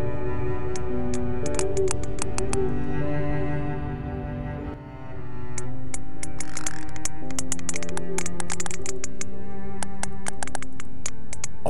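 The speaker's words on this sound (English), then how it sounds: "I think it's the whale doing the clicking" Clicks from a whale underwater in the game Beyond Blue, sharp rapid clicks in irregular bursts over low droning tones and sustained hums.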